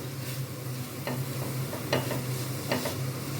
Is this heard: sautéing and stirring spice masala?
yes